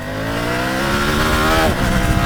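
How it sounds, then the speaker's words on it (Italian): Triumph Tiger 900 Rally three-cylinder motorcycle accelerating hard in second gear, its engine note climbing steadily in pitch, close and loud with a rasping, sporty triple tone. "Sentite, davvero 3 cilindri molto sportivo."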